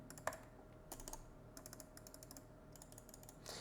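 Soft, light clicks from a Razer DeathAdder Elite mouse's buttons come in quick little clusters, close by and quiet, with short pauses between bursts.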